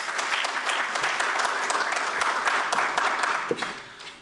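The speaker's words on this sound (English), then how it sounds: "A big hand, a big clap for them, because they are our heroes." A crowd claps continuously, a full, even burst of applause from many people with no pauses.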